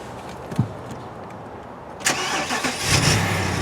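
A 2009 BMW X5 xDrive48i's 4.8-litre engine cranks and starts up, settling into a steady idle after a click, heard close with no talk.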